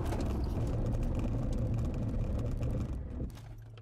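A car brakes hard from 110 km/h to a dead stop on new brake pads and rotors, a loud, dense rumble of road and tire noise that drops off abruptly near the end.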